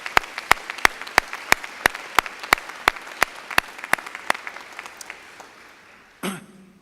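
Applause for graduating students at a biology commencement ceremony: sharp, evenly spaced claps in a steady rhythm that gradually thin out and fade, ending with a brief rustle.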